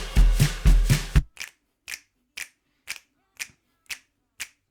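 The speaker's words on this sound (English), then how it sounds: "So there's like snaps" Finger snaps in a drum percussion track, first layered under a dense full beat, then eight crisp, evenly spaced snaps ringing out alone at a steady rhythm.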